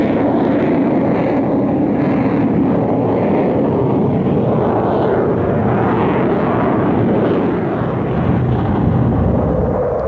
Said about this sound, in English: the Tornadoes flew most of their missions at what one pilot called the lowest possible height